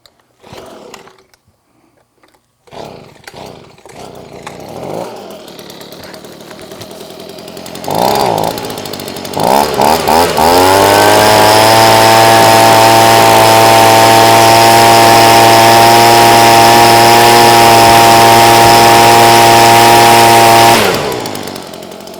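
A leaf blower drying a car starts with a few clicks and sputters, revs briefly, then holds a loud, steady, close engine whine and rushing air for about ten seconds before cutting off abruptly.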